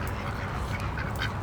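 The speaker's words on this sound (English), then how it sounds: "We got all my birds following me." Farm ducks quack in a loose group close by while following their keeper outdoors, a steady busy chatter of short calls with no one speaking.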